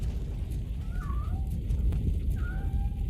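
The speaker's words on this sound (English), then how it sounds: "I hear a kitty" Cat meowing in a RoboCop video game, two brief mews spaced apart over a constant low rumble of game background noise.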